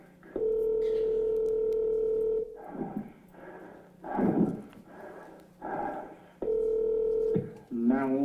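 Telephone call tones, probably dialing, in a recorded emergency call: a long steady tone, then voices talking over a line, then a second tone near the end.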